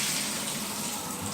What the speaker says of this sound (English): Shower works fine.